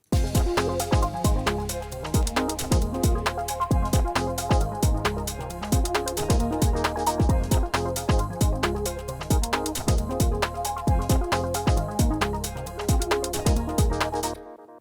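A mellow, fluffy 8-bar synth loop plays steadily throughout, with a regular beat and sustained chords filling the mix, loud and alone until an abrupt stop at the end.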